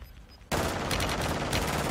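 Warzone 2 video game gunfire, a sudden loud burst of rapid automatic shots starting after a brief quiet moment and continuing steadily to the end.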